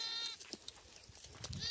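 Sheep bleat inside a closed farm shed, several overlapping wavering calls close by over a noisy, crowded background, with no talking.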